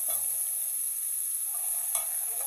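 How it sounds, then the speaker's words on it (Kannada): Grated carrot and cabbage hit a pan of mustard seeds and cumin and sizzle steadily, with a continuous close hiss, a few soft stirring scrapes and a brief louder clatter near the end. "ಸಾಸಿವೆ ಜೀರಿಗೆ ಚಿಟ್ಲದ ಮೇಲೆ ನಾನು ತುರಿದಿರುವಂತಹ ಕ್ಯಾರೆಟು, ಗಡ್ಡೆಕೋಸು ಇವೆಲ್ಲ ತುರ್ಕೊಂಡಿದ್ದರೆ ಇದನ್ನೆಲ್ಲ ಹಾಕ್ತಾ ಇದ್ದೀನಿ"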